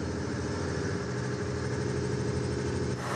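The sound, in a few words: camper van engine idling loudly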